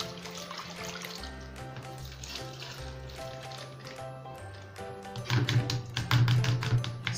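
Rice flakes (aval) being rinsed in water for a fireless recipe, with soft splashing and trickling close by, sloshing louder toward the end over a low background hum.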